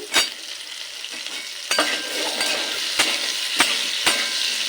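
Vegetables sizzle in a frying pan, potato, pumpkin, carrot and pointed gourd pieces, while a spatula stirs them, its scrapes and clinks landing as several sharp strikes over a steady close hiss.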